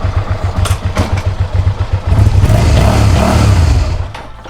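An abandoned Suzuki SV650 motorcycle, running on bad fuel, idles loud and close right after starting, with a rapid lumpy twin-cylinder pulse that thickens into a steadier, fuller roar before settling back.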